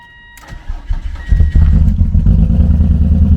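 A BMW E36 convertible engine cranks and catches, then runs rough on five of six cylinders with no exhaust fitted, a loud, uneven, raw idle close by.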